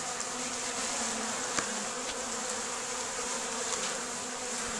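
A dense swarm of honeybees drones steadily around an opened beehive during an inspection, a continuous close buzzing hum with a few brief sharp clicks of handling, and no voices.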